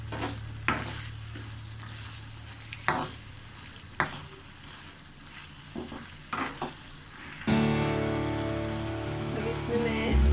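Beef for malai handi sizzles steadily in a preheated kadhai, with a few sharp scrapes and stirs, then a louder hiss as fat joins the pan; no talking.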